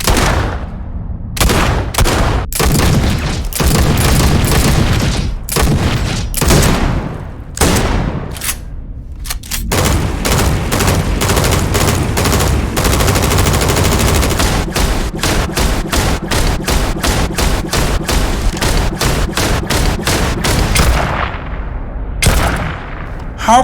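Rapid bursts and single shots of gunfire from the sci-fi video game Starfield, loud and dense, with sustained automatic volleys and heavy booms filling nearly the whole stretch, broken by a few brief pauses.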